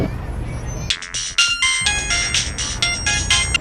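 An outgoing phone call rings out unanswered, a repeating bright electronic ringtone melody that starts after a brief low rumble and plays close and clear for a few seconds.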